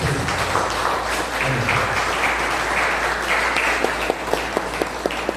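Loud applause from a crowd fills the space, steady and dense, with a few sharper individual claps standing out near the end.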